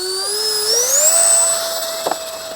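Jet whine comes from a 3D printed RC jet plane in arctic camo flying overhead, its high, clear turbine-like tone rising in pitch and then holding steady and fairly loud throughout.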